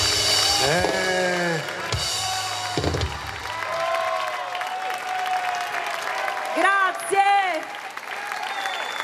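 Audience applause in an outdoor piazza in Jesolo at a summer concert, crowd clapping running beneath a voice speaking and calling out over a microphone, with the clapping steady throughout.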